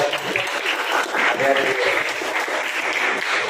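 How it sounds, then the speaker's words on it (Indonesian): An audience at a school lesson on intellectual property gives a dense burst of applause, sustained and fairly loud, with some voices mixed in. "Tepuk tangan buat."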